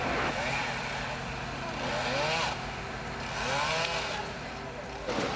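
A chainsaw is run during a firefighters' intervention to cut down tree branches, where ice or limbs may fall. Its engine drones steadily and nearby, with revving swells, across the whole stretch.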